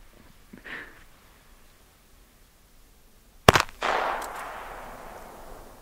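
A single sharp firecracker (Böller) bang, close and loud, followed by a rushing echo and trailing noise that fades over a couple of seconds after a brief quiet lead-in.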